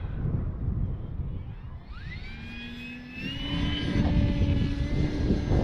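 An Arrows RC Bigfoot plug-and-play radio-controlled plane flies overhead, its electric motor whining with a rising pitch as it passes close, over steady wind noise from outdoors.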